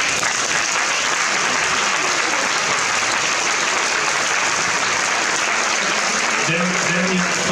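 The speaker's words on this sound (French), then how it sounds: "on peut les applaudir." Steady, dense applause from a large crowd at the 2016 Bol d'Or prize-giving in Geneva fills the whole stretch, loud and continuous.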